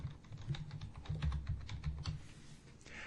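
Keyboard typing as a customer name is entered into QuickBooks: a quick, steady run of light key clicks, close and without talk, trailing off at the end.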